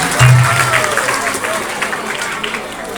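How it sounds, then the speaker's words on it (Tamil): Audience applause at a Tamil pattimandram debate show, a broad wash of clapping that holds steady for a few seconds, fairly loud and close, with a low voice heard briefly near the start. "நல்ல பெரிய கைத்தட்டு கொடுங்க பார்க்கலாம்"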